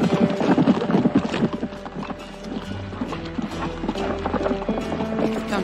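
Horses' hooves clip-clop loudly and close by on a Western town street, a busy irregular rhythm of hoof strikes mixed with creaking and rattling of gear, with no speech.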